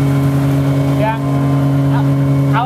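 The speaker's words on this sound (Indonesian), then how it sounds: "Nih, mesinnya nih. Mesin Golden Tech GT50." A Golden Tech GT50 machine runs at the wastewater treatment plant of an energy-supplement drink factory, giving a loud, steady mechanical hum throughout while voices chatter faintly in the background.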